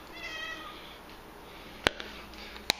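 A cat gives a soft, brief meow early on against a quiet room, followed later by two sharp clicks or taps.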